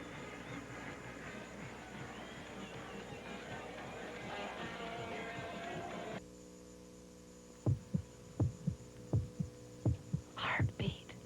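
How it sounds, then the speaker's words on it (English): A heartbeat sound effect in a Chevrolet car dealership commercial: steady low thumps in a regular rhythm over a humming bed, with a breathy whisper near the end. "Heartbeat."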